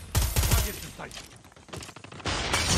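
Bursts of gunfire from a gun being hip-fired in a fast-paced shooter game played on an iPad Pro, with rapid close shots in clusters and a voice talking over and between them.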